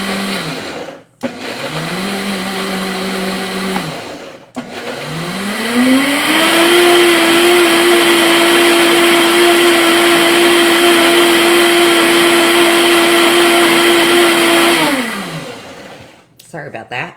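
Kitchen blender pulsing then mixing a carrot ginger dressing: two short whirring bursts, then a long loud steady motor whine after ramping up in speed, winding down at the end.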